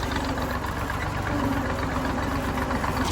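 A tractor idles steadily with a trolley of potatoes on a weighbridge, its engine a constant close rumble with no talk over it.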